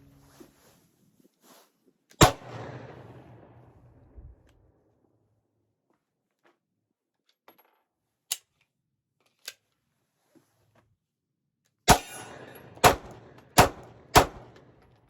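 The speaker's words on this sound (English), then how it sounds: "let's put more rounds through it and make sure it can continue to function" Pistol shots from an MDX Arms 80% G19 build kit fired outdoors, a single loud crack followed by a long quiet pause and then a quick string of three sharp reports, with fainter clicks between.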